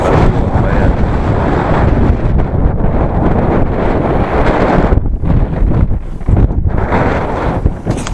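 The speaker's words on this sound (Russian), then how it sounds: "Ветер сегодня такой же сильный." Strong wind in the Mongolian mountain steppe in May buffets the microphone, a loud, continuous roaring rumble with surging gusts and brief lulls throughout.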